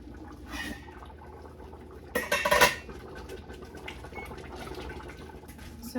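Glass canning jars for satsuma bourbon vanilla marmalade rest in hot water in a kitchen sink, giving one brief clinking clatter of glass midway through otherwise quiet room tone.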